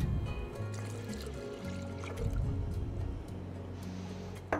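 Almond milk pours steadily into a blender for a smoothie, a continuous close trickle and glug of liquid with faint clinks, no talk over it.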